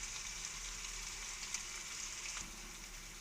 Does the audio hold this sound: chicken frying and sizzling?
yes